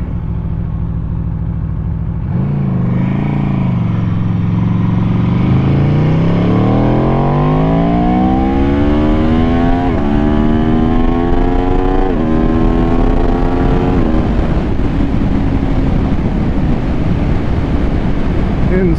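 A 2018 Aprilia RSV4RR motorcycle on back roads in southeast Georgia accelerates hard through several gears, revs climbing and dropping at each shift, loud and close under heavy wind noise.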